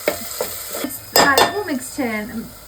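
Turmeric, coriander and fenugreek powders are mixed into a village-style fish curry in a pot. A few soft clinks and scrapes of a utensil come first, then a louder rustle, all close and without talk.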